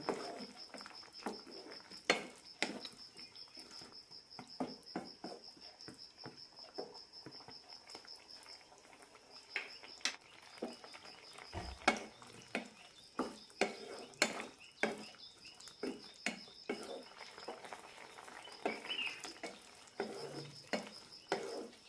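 Drumstick vegetable stew simmering in a pot and stirred now and then, with scattered sharp clinks and scrapes over a faint steady bubbling hiss.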